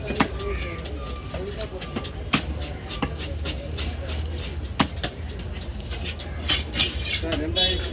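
A soft snapper fish being sliced with a knife at a fish-cutting stall, giving repeated sharp chops and scraping knocks against the board amid busy background chatter and clatter.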